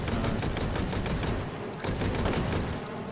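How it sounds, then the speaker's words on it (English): An AA-12 shotgun in a video game fires in rapid bursts, a dense run of loud blasts close up, briefly pausing before firing again. "Yeah, that's shotgun doing good work."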